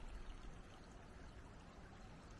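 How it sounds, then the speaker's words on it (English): Creek running through the back of a wooded residential property in Portland, Oregon, a soft continuous rush and trickle of flowing water, faint but steady, with no talking. "The only thing you hear back here are the sounds of birds and this amazing creek that runs through the back of the property."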